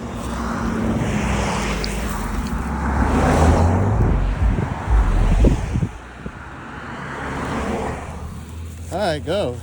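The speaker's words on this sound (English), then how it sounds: "Car's coming." A car drives past on a road in early-spring Florida countryside, a broad rumbling swell that builds and fades over several seconds, with wind buffeting the microphone and brief talk at the end.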